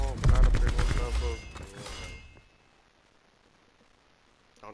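Rapid bursts of automatic gunfire in the shooter game Call of Duty: Black Ops 4 rattle loudly for about two seconds, then cut away to near silence.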